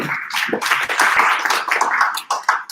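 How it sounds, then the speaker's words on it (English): Applause breaks out for a speaker at a student debate session, dense and sustained at close range, fading slightly near the end. "Give applause to Zero."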